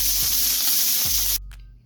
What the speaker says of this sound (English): the Blackstone got a decent sear